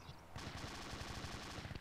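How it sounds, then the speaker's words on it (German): Heavy machine gun fire in the Arma 2 video game, rendered as a fast, steady burst of rapid shots that begins after a brief quiet lead-in and keeps hammering at a moderately loud level. "Oder ist das ein schweres MG?"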